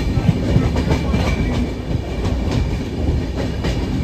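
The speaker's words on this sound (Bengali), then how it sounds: "ট্রেন একদম পারফেক্ট টাইমে চলছে" An overnight express train runs on its rails, heard from inside the coach as a loud, continuous rumble with rhythmic clickety-clack wheel beats recurring every second or so, and no one speaking.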